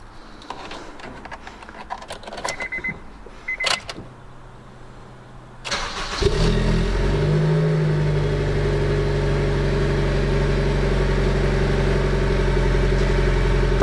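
A used Honda Integra Type R with 85,600 km cranks and fires up, then settles into a loud, steady idle with a brief rev, heard close after some quiet handling noises.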